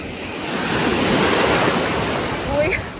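Waves of the Balearic Sea wash over a pebble beach at Calella, Spain, a steady broadband surf rush swelling and receding, with wind buffeting the microphone and a faint voice near the end.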